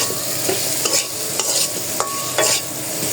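Spoon scraping and stirring masala in a pan for hilsa with hog plum, with repeated sharp stirring strokes over a steady close sizzle, no talk.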